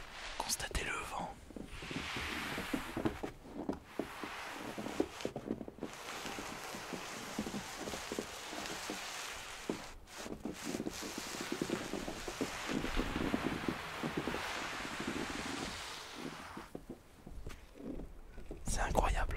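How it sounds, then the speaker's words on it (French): Wind blowing outdoors in snow beside a small bridge over water in Saint-Sauves-d'Auvergne, a continuous gusting rush buffeting the microphone with rising and falling loudness, no voices. "Constatez le vent."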